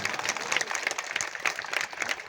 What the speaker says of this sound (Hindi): सभी लोगों के नाम पर एक बार जोरदार ताली बजा करके आप लोग स्वागत करें